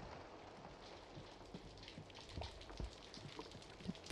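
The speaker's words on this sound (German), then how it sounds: "Ich mag diesen Regensound sehr." Steady rain in the video game Fobia St. Dinfna Hotel patters on surfaces, with scattered louder drips over a constant soft hiss. It is fairly quiet and continuous, with no talking.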